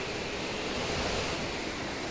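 A sudden storm with high waves in the horror game Ao Oni 3 gives a steady, dense roar of wind and surf that holds evenly throughout at a moderate level, with no voices.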